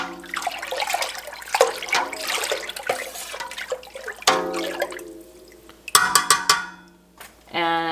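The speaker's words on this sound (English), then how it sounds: "I'm going to pour my calcium chloride diluted in the non-chlorinated water through" Diluted calcium chloride solution being poured into a pot of milk and stirred during cheesemaking, with a continuous liquid gurgling and splashing close by, broken by brief pauses and a few clinks of a utensil against the pot.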